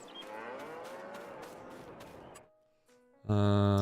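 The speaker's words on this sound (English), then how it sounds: "Cattle." Cattle in the video game Farming Simulator 22 give a long, drawn-out moo over a low rumble, which fades out into near silence before a loud, bright tonal sound cuts in at the end.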